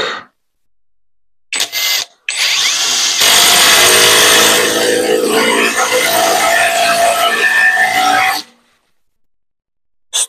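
A Dnipro-M TD-12 cordless impact driver drives a long turbo screw into wood, starting with brief spurts and then running loud and continuous for several seconds before stopping abruptly.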